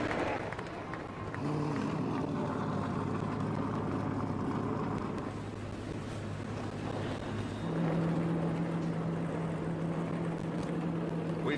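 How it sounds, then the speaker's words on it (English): NASCAR truck engines start and rumble at Pocono Raceway during the 2018 Gander Outdoors 150: a loud, steady, droning roar of many motors together that holds through the whole stretch, with a slight rise in pitch near the end. "Drivers, start your engines."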